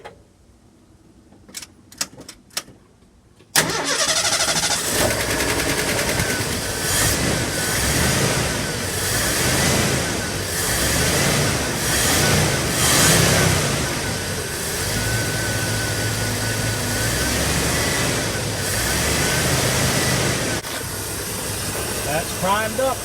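A 1974 Ford F-250 Ranger engine catches and runs after a fuel line replacement, idling roughly and slightly unevenly, close and loud, after a few brief clicks and cranking sounds at the start.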